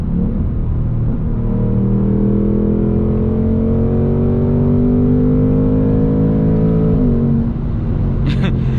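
A 2024 Ford Mustang GT with a 10-speed gearbox pulls hard uphill, its engine a loud, steady, rising drone with climbing harmonics close by, briefly dipping near the end as it shifts.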